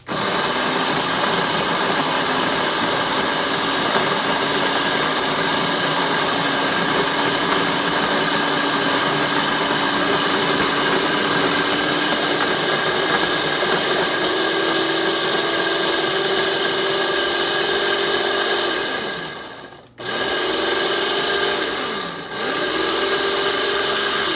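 A coffee grinder whirs loudly and steadily as it grinds coffee beans for about twenty seconds, then cuts off abruptly and gives one short final burst.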